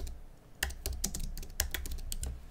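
Rapid keystrokes on a computer keyboard while renaming a camera view in 3D design software, a close, crisp run of clicks in uneven bursts with no voices.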